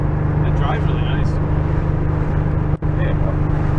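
A flood-damaged Porsche 911 drives with a steady, loud low engine hum and road rumble throughout, broken by one brief dropout near the end.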